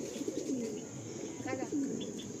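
Several Madrasi breeder pigeons coo softly in a loft in Kolkata. Two short, throaty rolling coos come close together over a quiet background.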